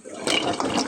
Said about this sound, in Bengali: আমি পরিমাণ মতো একটু পানি দিয়ে দিছি।